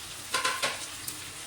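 Tomatoes sauté in a hot pan with a steady sizzle, a few quick scraping stirs and a light utensil tap, close and brief with no talking.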